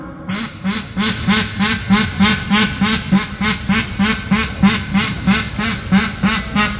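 Rapid, rhythmic duck quacking imitated by a mimicry performer on stage, repeated steadily for several seconds, loud and close, with no talking.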